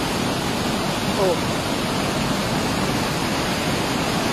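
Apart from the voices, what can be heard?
water rushing from opened Nia Dam during flooding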